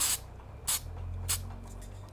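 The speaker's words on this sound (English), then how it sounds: "I'm working in such a little tight area, it's hard to spray that." Paint sprays onto custom shoes in short aerosol bursts, three distinct hisses about half a second each with quiet gaps between, plus a brief final burst at the end.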